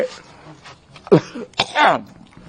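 A single rough cough bursts out, followed moments later by another harsh, throaty cough, close by with faint background noise.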